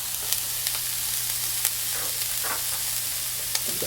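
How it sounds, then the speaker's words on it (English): Onions sautéing in olive oil in a skillet for a Spanish potato omelet, a steady close sizzle with scattered crackles and light stirring sounds, no talking. "Before you saute your onions in the skillet, be sure to add a couple tablespoons of olive oil."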